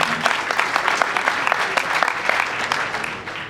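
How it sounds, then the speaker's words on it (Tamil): An audience gives the 24AM team a short burst of dense, close applause, a rapid flurry of claps at an even level. "அவங்களுக்கு எல்லாருமே ஒரு பெரிய ஒரு கைத்தட்டல் கொடுத்தா ரொம்ப நல்லா இருக்கும்"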